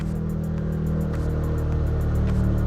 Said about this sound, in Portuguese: E deu para perceber, né, a esportividade no carro só no ronco do escapamento